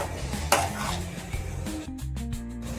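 A spatula stirs paneer chilli in a hot pan, soft scraping and metal clinks over a light sizzle, close by, with steady background music throughout.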